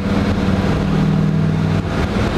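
The 302 V8 of a 1969 Chevrolet Camaro Z28 runs close by with a steady, rumbling exhaust burble, holding an even throaty drone throughout.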